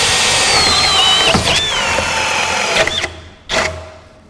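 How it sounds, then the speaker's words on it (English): A loud cordless drill in hammer mode whirs continuously, its pitch wavering, then cuts out and briefly revs again before fading. "the hammer mechanism actually activated. I heard it make that hammer noise."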